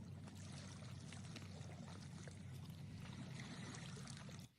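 Crashing ocean waves as a game sound effect for a Unity first-person shooter: a dense, steady watery roar and wash, fairly faint and continuous, ending abruptly with no voices.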